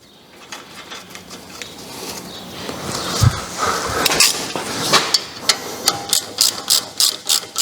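A ratchet tightens new thread-locked bolts on the front brake caliper sliders of a Mercedes CLS Shooting Brake, giving close, crisp metallic clicking that starts scattered and becomes a rapid, rhythmic series of ratchet strokes toward the end.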